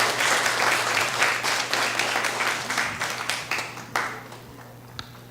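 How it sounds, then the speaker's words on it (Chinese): A church congregation at a Presbyterian Sunday service gives a sustained round of loud, dense applause that thins out toward the end, leaving a few scattered claps. "那我们再次拍手谢谢他们"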